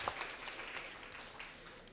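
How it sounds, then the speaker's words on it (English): Audience applause at a university Three Minute Thesis symposium finale as an award winner is honoured: a steady, dense wash of many hands clapping that holds at an even level throughout, with no speech. "One big round of applause for Dr."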